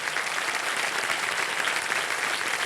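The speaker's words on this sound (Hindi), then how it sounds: "आमिर खान और सनी देओल का तालियों के साथ अभिनंदन किया जाए।" A television studio audience at a Kaun Banega Crorepati grand opening bursts into dense, sustained applause welcoming film stars, loud and even throughout with no pause.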